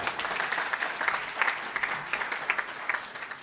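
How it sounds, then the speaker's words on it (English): A room of front office staff and corporate guests applauds at an MLS MVP press conference with steady mid-level clapping throughout, though no distinct cheering stands out. "I'm sure they want to give themselves a cheer"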